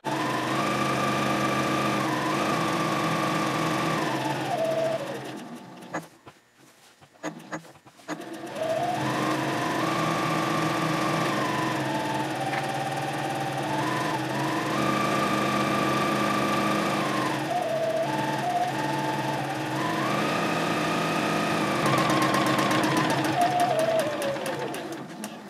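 A sewing machine stitches a fabric pouch close to a marked line in long steady whirring runs. The motor pauses briefly in the middle, then resumes and rises and falls in speed, with no talk.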